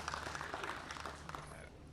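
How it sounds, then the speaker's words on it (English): An audience at a Veterans Day ceremony at a cultural center applauds in a dense, steady wash of clapping, mixed with a murmur of voices. "And everybody else in our band, give them a round of applause."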